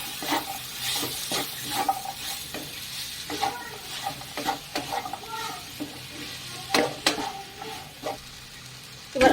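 Banana flower being stirred and fried in a pan in a home kitchen, a steady sizzle under repeated scraping strokes of a spoon against the pan, close and without talk.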